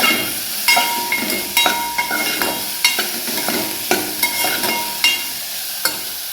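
Steamed cauliflower is stirred and fried in hot oil in a pan: a soft steady sizzle broken by a dozen sharp spatula scrapes and clinks at an uneven rhythm, with no voices.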